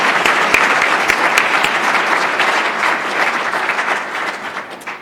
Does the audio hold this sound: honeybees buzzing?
no